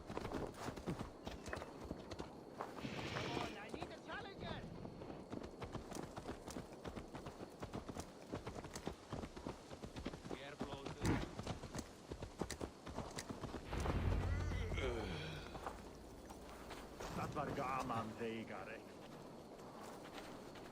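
Rhythmic clip-clop of horse hooves in Assassin's Creed Valhalla runs steadily throughout, with voices talking over the hoofbeats.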